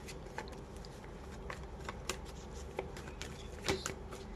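Tarot cards shuffled by hand during a Libra love reading, a steady run of soft papery riffles and flicks with a sharper snap near the end, close and fairly quiet with no talking.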